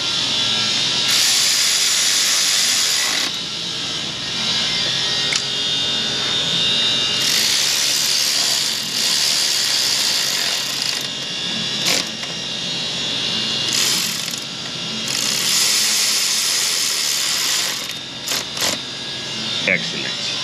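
A power tool tightens ignition coil bolts on a Ford 5.4 Triton engine in an F-150/F-250 truck, running in several loud bursts of whirring with short pauses between, close to the mic, with a voice talking over parts of it.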